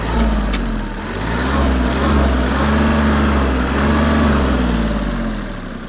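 A Kubota GL-320 mini tractor's 1.5-litre D1503 engine is throttled up, giving a loud, steady, close-up mechanical drone that swells slightly and holds with no talking.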